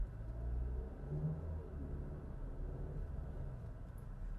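An Audi Q3 Performance Black SUV pulls away from a traffic light in first gear, its engine a steady low rumble with revs climbing, heard from inside the cabin with no talk.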